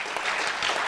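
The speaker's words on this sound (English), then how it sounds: "An applause for that as well" An audience at a book launch claps in a short, dense burst of applause, close and steady, with no talk over it.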